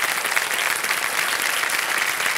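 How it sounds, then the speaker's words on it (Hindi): Dense, sustained studio audience applause on the Kaun Banega Crorepati quiz show set, many hands clapping in a steady roar for a contestant, with no break throughout. "तालियां बज जाएं इनके लिए।"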